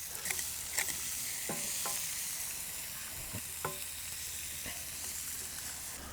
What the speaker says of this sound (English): I'm just going to scoop out some of our bone marrow. That's going to start crisping up, like kind of almost like beef scratchings